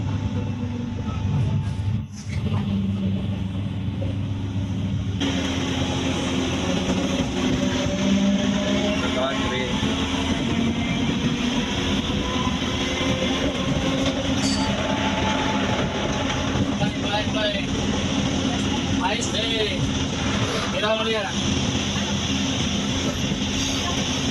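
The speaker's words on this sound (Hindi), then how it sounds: "ଏବେ ଟ୍ରେନ୍ ଆମର ପୁରୀ ଷ୍ଟେସନ ଛାଡ଼ିଲା" A train pulling out of Puri railway station, a steady loud rumble of wheels and carriages with faint clatter throughout, rising after a few seconds as the train gathers motion, with voices now and then in the background.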